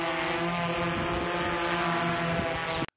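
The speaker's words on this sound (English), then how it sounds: "So let's get the drone airborne." Quadcopter drone lifting off and flying near the microphone outdoors in broad daylight, a steady loud buzzing propeller whine with a high tone, holding constant before cutting out abruptly near the end.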